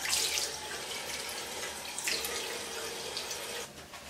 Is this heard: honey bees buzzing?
no